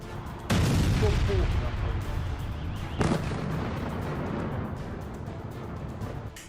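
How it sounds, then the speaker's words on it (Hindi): Ballistic missile strikes explode over Kyiv, two heavy broadband booms a few seconds apart set off a dense, sustained roar and rumble that stays loud and continuous between and after the blasts. "कीव में बैलिस्टिक मिसाइलों से ताबड़तोड़ हमले हो रहे हैं।"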